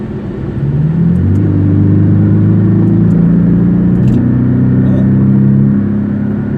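A Porsche 718 Cayman S engine growls loudly and steadily, its deep exhaust rumble, with the muffler valve opened, rising in pitch as it revs and accelerates, with no talking.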